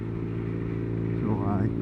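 A BMW R nineT motorcycle engine drones steadily while riding, a low, even rumble close by, with a brief voice rising over it near the end.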